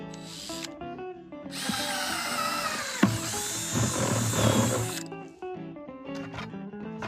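A power drill bores holes at close range: a high whining spin that starts and stops in short bursts, with one long sustained run in the middle and no talking.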